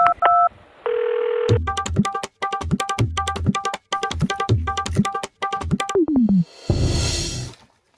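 A telephone keypad dials out: a dial tone, then a rapid string of loud beeping tones pressed one after another, followed by a short falling tone and a burst of noise.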